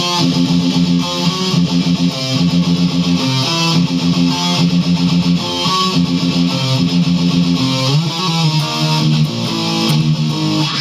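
A distorted electric guitar plays a fast rhythm riff, with hammer-ons, pull-offs and slides into power chords on the fifth string, loud and continuous.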